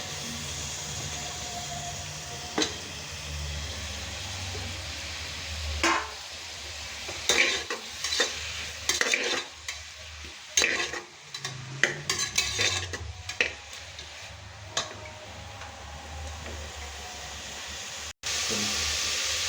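Tomatoes stir-frying in a pan for Usilampatti-style country chicken kurma: a low sizzle under irregular bursts of spoon scraping and clattering against the pan, busier in the middle and ending with a louder steady hiss.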